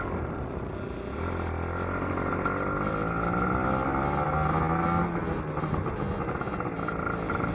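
A two-stroke Kawasaki Ninja RR motorcycle on a test ride, its engine droning steadily close by and climbing in pitch as it accelerates through the gears, with no talking over it.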